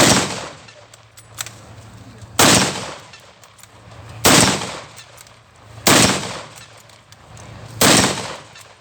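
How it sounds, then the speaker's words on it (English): A WWII reenactor fires a rifle as fast as possible with blanks, five loud, sharp shots spaced about one and a half to two seconds apart, each followed by a short echo and faint handling noise between them. "He's going to show you how to fire this as fast as you can."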